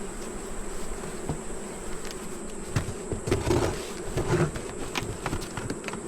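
Honey bees buzz steadily throughout a hive inspection, a dense close drone with brief louder swells as individual bees pass near, plus faint handling rustles and no talk.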